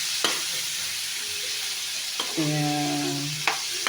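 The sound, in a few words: bitter gourd (ampalaya) being sautéed and stirred in a pan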